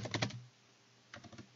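Typing on a computer keyboard while coding, two quick bursts of close, crisp key clicks separated by a short pause.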